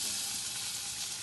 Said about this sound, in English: And to that, I will add now the potatoes to brown.